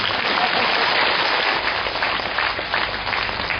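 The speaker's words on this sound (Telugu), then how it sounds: "చప్పట్లు కొడితే గట్టిగా కొట్టాలి." Loud, dense audience clapping fills the whole stretch at a steady level, a continuous wash of many hands striking with no voices on top.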